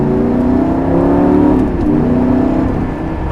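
A 2009 Lamborghini Gallardo LP560 with all-wheel drive accelerates hard on a public road, its engine note loud and close, rising steadily and then briefly dipping as it shifts before pulling on.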